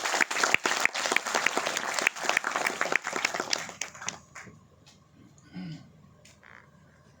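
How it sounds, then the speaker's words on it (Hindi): Loud audience applause at a gathering honouring contributors to a Ganga programme, dense clapping for about four seconds before thinning out into scattered claps and faint voices. "सबसे पहले एक बार इन लोगों का अभिनंदन करिए जोरदार ताली से"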